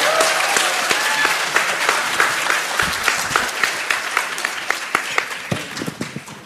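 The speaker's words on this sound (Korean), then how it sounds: "큰 박수 부탁드리겠습니다." An audience at a political event greets a broadcast journalist and film director with a sustained burst of applause, dense steady clapping from a large crowd that carries on evenly throughout.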